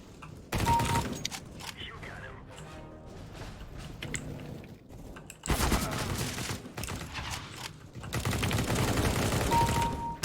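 Bursts of sniper rifle and automatic gunfire from a multiplayer shooter video game, loud and dense in three separate volleys with a quieter mix of game sounds and faint talk between them.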